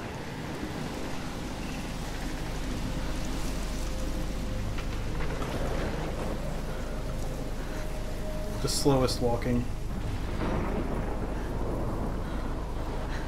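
Storm ambience from the video game Life is Strange, with a steady roar of wind and rain throughout while people talk over it.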